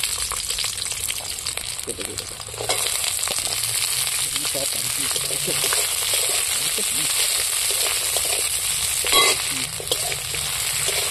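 Chopped onions fry in oil in a kadai, a steady hiss of sizzling with intermittent scraping as they are stirred, close and fairly loud throughout.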